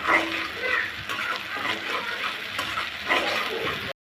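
Ginger-garlic paste with softened tomato and chili frying in a pan while being stirred: a continuous sizzle with scraping strokes, close and steady throughout.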